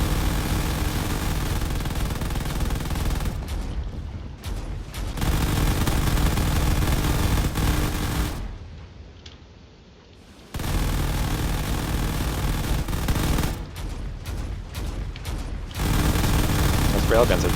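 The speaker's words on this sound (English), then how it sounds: "Those railguns are definitely doing everything they can." Railguns and turrets fire in a drone-battle video game, a dense, steady barrage of rapid shots and booms that drops out twice for brief quiet gaps before resuming loud.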